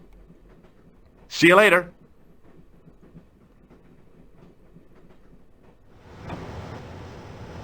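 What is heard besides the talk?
train running in Broken Sword video game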